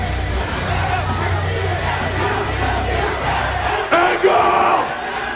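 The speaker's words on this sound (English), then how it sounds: "They're chanting in unison at Samoa Joe" A wrestling arena crowd at a TNA Genesis 2006 event chants in unison, a loud rhythmic roar of many voices that swells briefly near the end.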